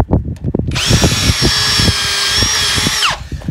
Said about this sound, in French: Et ensuite je viens visser jusqu'au bout